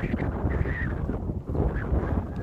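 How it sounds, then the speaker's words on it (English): Strong wind blows across an exposed, cold campsite during a storm, a loud gusting roar against the microphone with rustling leaves, near and unbroken for the whole moment. "Pretty windy out here."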